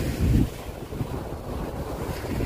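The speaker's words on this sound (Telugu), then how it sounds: "అలలు జోరుగా ఉన్నాయి." Strong sea waves roll in at Adi Kadalayi beach in Kannur, Kerala, where backwaters meet the sea: a steady, loud surf roar with heavy wind buffeting the microphone and no talk.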